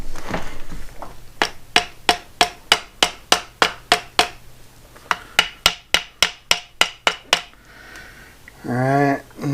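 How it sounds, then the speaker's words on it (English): Sharp hammer taps on a water pump part from a Yamaha 6 hp F6 outboard, two runs of about a dozen evenly spaced close knocks, with a short voice at the end. "Should be able to just maybe tap on it."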